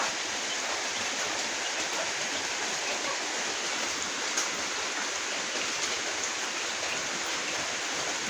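Steady, dense hiss of rain falling during a prolonged downpour around a rural home, an even unbroken wash of sound with no voices.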